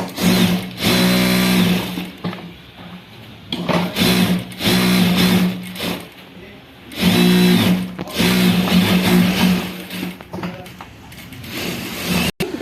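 A sewing machine stitches a cross-cut blouse, its motor whirring in several bursts of a second or two each, separated by brief pauses.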